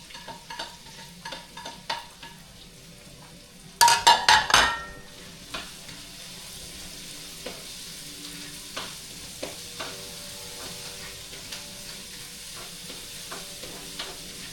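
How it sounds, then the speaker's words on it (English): Garlic and onions sauté in a large pot big enough for thirty or forty people, a low steady sizzle under sparse spoon clicks, with a brief loud clatter of metal early on. "So just sauteing garlic and onions here."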